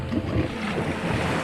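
A fiberglass banga boat cruises across a flat, calm ocean in the Philippines, giving a steady broadband rush of water, wind and engine noise with no break.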